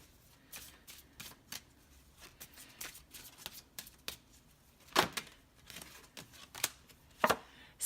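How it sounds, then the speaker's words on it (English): Fortune reading cards being shuffled by hand, a run of crisp riffling snaps and soft flicks in an irregular rhythm, close and fairly quiet with a few sharper bursts near the end. "So let's pick a fortune reading card."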